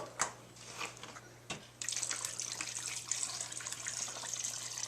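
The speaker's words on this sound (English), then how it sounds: "Okay, then I'm going to add water." Water pours into a pressure cooker holding meat seasoned with garlic, cumin and chopped onion: a few light clinks first, then a steady, fairly quiet rushing stream from about two seconds on.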